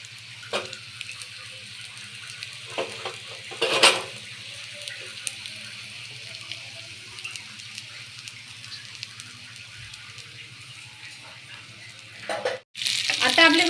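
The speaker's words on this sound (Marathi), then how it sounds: "छान अशी दुसऱ्या बाजूने आपल्याला फ्राय करून घ्यायचे।" Bangda mackerel fries in a pan for a crispy Indian fish fry, a soft, continuous sizzle with a low hum underneath, punctuated by a few louder spatters and a burst of crackling near the end.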